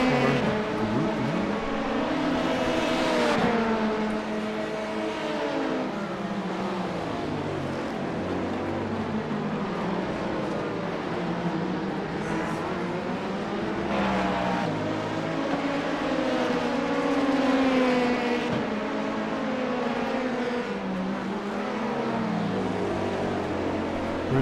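Several LMP2 prototype race car engines in iRacing during an IMSA race, a continuous loud roar with rising and falling revs as the cars bunch into a group, sustained throughout with no talk.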